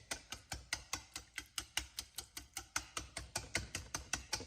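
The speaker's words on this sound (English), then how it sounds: "I'm just going to kind of chop up my cranberry sauce a little bit with my whisk." A whisk chops and stirs cranberry sauce in a bowl, making about twenty quick, evenly spaced clicks and taps, close and fairly quiet with no talking.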